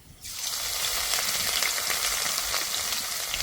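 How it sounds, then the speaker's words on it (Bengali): Crushed ginger and slit green chilies hit hot oil with a sudden loud sizzle that settles into a steady, close crackling fry. "আদাটা ভালো করে ভেজে নেব"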